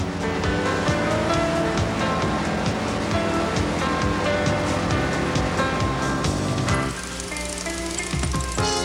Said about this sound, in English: into the mixer, where the sand is smothered in cement powder